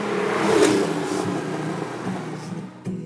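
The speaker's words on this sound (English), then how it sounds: "you can hear the sound of the engine." A Porsche 911 Turbo (930, 3.0) rumbles while driving, a steady mid-pitched engine drone from inside or near the car that swells slightly early, then settles before a brief drop and return.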